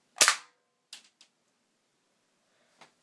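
A Nerf blaster converted to fire airsoft pellets lets off one sharp, loud shot, followed by a few faint clicks and small knocks from handling; no one talks.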